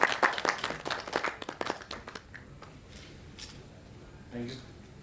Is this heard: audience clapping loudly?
yes